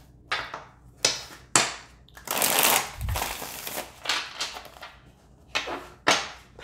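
Oracle cards being shuffled by hand at a pick-a-card love reading, several short riffling bursts and one longer shuffle, close and crisp with no talk.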